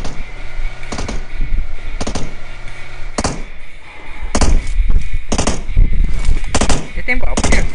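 Gunfire in a mobile battle royale shooter, with repeated loud bursts of shots at irregular intervals, some close and punchy, over a background of game sounds.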